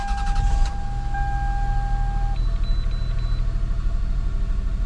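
A 2002 Toyota Highlander engine cranks briefly and catches, then settles into a steady low idle rumble close by, with a faint electronic chime tone sounding over it.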